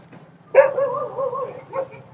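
A dog nearby lets out one sharp bark that runs into a wavering, whining yelp and then a short second yelp, against an otherwise quiet background.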